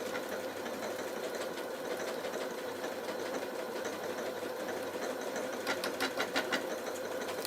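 A domestic sewing machine stitching fabric at a steady medium speed, its continuous close mechanical whirr holding evenly throughout with no voices.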